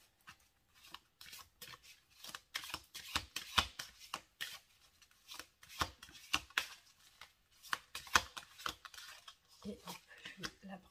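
Tarot or oracle cards shuffled for a card reading, quick papery riffles and slaps in uneven bursts, close and soft, with a voice speaking faintly between them.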